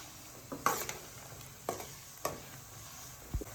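Curry leaves and mint frying in hot oil on a low flame for chicken pickle, soft sizzling with a few sharp stirring scrapes and pops, close and alone without talk.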